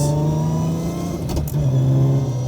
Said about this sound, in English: I know the gear whine is basically his favorite thing about this gearbox.